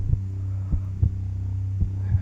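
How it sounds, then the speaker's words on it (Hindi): A heartbeat thumps in a slow, steady rhythm over a constant low hum, close and prominent with no talking. "ये मेरे दिल की धड़कन सुन रहे हो आप?"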